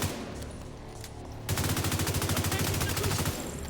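Bighorn rifle fire in The Division 2 starts as rapid close rattling after a noisy lead-in, continuing loudly for about two seconds before easing, with no talk heard.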